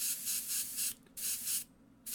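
Spray paint hissing from a can in short bursts while painting a figure's skin tones, four or five close, loud pulses of steady hiss separated by brief pauses.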